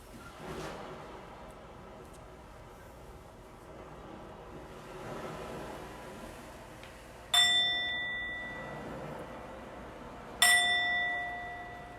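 A yoga class bell is struck twice, several seconds apart, each a bright clear ring that hangs and slowly fades in an otherwise quiet room.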